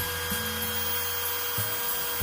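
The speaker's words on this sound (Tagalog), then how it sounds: "Now it's time to sand the wood to desired shape." A piece of scrap wood is sanded into the shape of a fishing lure, giving a continuous rasping rub with a low steady hum and a couple of brief scraping bumps, heard up close.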